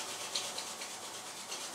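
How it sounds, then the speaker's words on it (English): Two palms rub briskly together during a desk yoga warm-up, a close, continuous soft friction swish with slight rhythmic pulses. "take your hands and start to rub them together"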